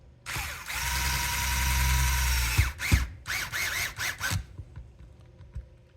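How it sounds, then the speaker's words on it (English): Power screwdriver with its torque turned down whirring as it drives screws into aluminum steering parts on an XRAY XB2 RC car, one long run followed by several short bursts and stops. "I'm going to turn the torque down on my driver before I put those in"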